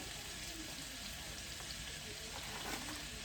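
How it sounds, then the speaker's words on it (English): A peach mixture with vanilla simmers in a pan, giving a soft, steady sizzle and bubbling hiss that runs continuously at low level with faint stirring, and a voice briefly present. "you're gonna let that simmer a little bit"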